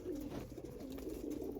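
A breeding pair of Andhra Lambadi pigeons at a loft coo softly in low, rolling repeated phrases, quiet and close, with no talk over them.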